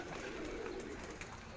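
A Badshah breed pigeon coos in a short, soft, throaty burst close by, over a low background murmur.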